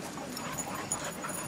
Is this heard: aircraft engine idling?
no